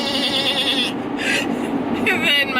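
A man vocally imitates a sheep bleating in a quavering, wavering voice, held for several seconds close to the listener, with a low hum underneath, as if from a vehicle interior such as a VW Eurovan.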